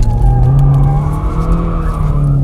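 BMW 118i F20 hatchback driven in sport mode, its engine droning loud and steady, with tires sliding briefly in a short skid.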